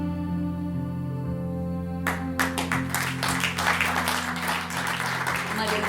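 Audience applause bursts out at a poetry-and-song event after a stretch of sustained musical tones, with dense, close clapping continuing steadily over the lingering music.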